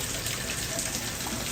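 Heavy rain pours down steadily in a garden, a dense continuous hiss of drops with no breaks, fairly close and even throughout.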